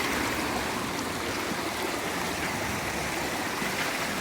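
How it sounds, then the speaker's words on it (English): Spring water pours steadily from an outflow pipe, a dense continuous rushing wash heard close and fairly loud, without pauses or talk. "You see quite a bit of water is flowing out here."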